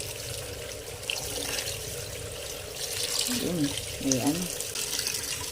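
Tap water runs steadily as saluyot (jute leaves) are rinsed, with a soft splashing hiss while someone speaks over it.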